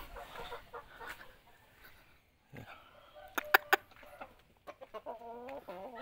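Backyard chickens cluck in short, scattered bursts at feeding time in the morning, with a few sharper calls near the end against quiet surroundings.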